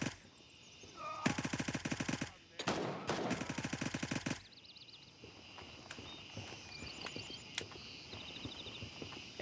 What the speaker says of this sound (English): Somewhat of a mag dump.